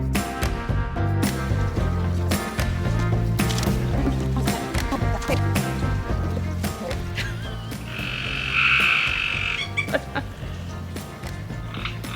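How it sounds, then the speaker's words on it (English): Frogs croaking in a chorus near a shaded garden window box, a steady layered stream of calls with a brighter burst of higher trilling toward the end, fairly loud and with no talking. "We will wait for the frogs to finish communicating."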